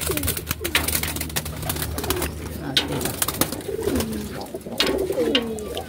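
Racing pigeons coo repeatedly in a loft, with several overlapping low, throaty calls and wing rustles carrying on steadily at close range, loud and busy, with no one speaking.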